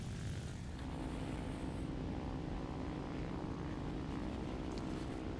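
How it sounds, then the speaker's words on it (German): A Focke-Wulf Fw 190 Würger fighter in War Thunder on a night mission drones with a continuous, heavy propeller engine roar, steady and close throughout with no talking. "Flugzeug ist FW-190 Würger."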